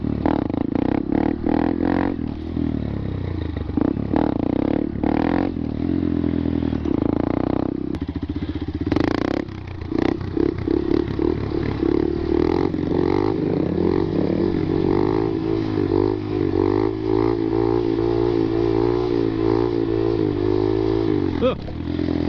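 A Honda Grom motorcycle ridden during stunt practice, its engine buzzing and revving close by, dropping and cutting out in stalls before restarting, with clattering and wind noise throughout.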